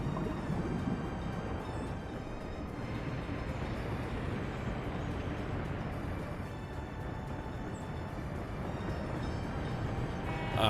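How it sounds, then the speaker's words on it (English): A train being fueled in the Workers & Resources: Soviet Republic video game gives a steady, continuous rail rumble that holds at an even level throughout, with no talking. "We are fueling a train."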